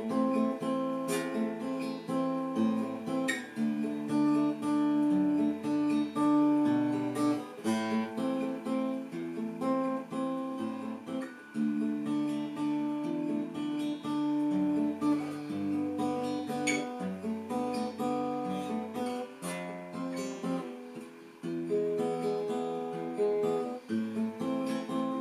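Acoustic guitar plays the chorus of a song slowly, with steady strummed and picked chords sounding close and continuous for the whole stretch, with no voice over it.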